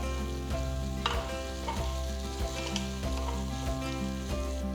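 Sliced tomatoes go into sizzling ginger and garlic for an egg masala curry, giving a steady sizzle with regular stirring clatters under a constant low hum from a stove or kitchen fan, with no voices.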